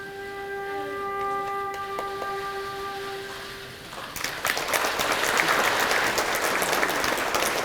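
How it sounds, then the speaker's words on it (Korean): Applause from an audience at a 2019 memorial ceremony for Japanese military comfort women victims, swelling after a held flute tone fades and continuing as a dense, steady clatter of many hands. "다시 한번 큰 박수 부탁드리겠습니다"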